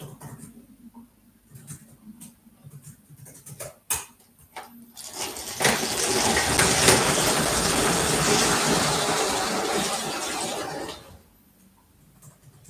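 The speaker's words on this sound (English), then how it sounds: "first cargo train needs to get out." Light clicking and clacking at first, then a steady rattling whir of a small LEGO cargo train running for several seconds before it stops.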